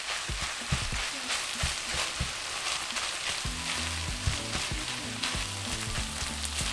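Chorizo and chipotle peppers sizzle and fry in a pan as they are stirred together, a steady close crackle with scraping stir strokes and low thuds running throughout.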